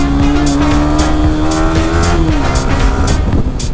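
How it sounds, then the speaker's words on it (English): A Yamaha R15 V3 motorcycle roars under hard acceleration on a morning ride in the Morni Hills, loud and close, its engine note climbing steadily and then dropping as the throttle eases. "Why go slow, bro? When you can just floor the accelerator and go fast."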